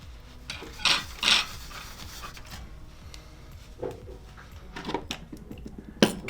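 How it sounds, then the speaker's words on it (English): A cloth wipes thermal paste off a PS4 heatsink up close, with soft rubbing strokes, a few louder rasping swipes and a sharp tap near the end. "Get our cloth and we just wipe."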